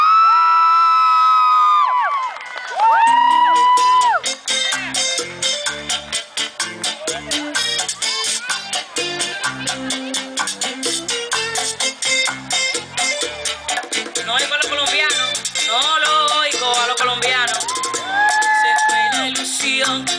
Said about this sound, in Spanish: Así es el aplauso colombiano.